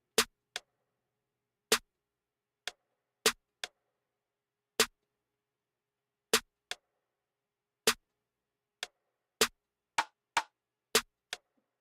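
A sparse beat pattern of snares, rim shots and percussion, crisp hits in an irregular pattern, dry snaps and clicks with silence between them and no other instruments.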